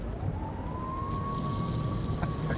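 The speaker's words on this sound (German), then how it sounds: "wir machen mal die Sirene an" A police car siren in the video game Nobody Wants to Die, a single sustained rising tone that holds steady over a low rumbling background, moderately loud throughout.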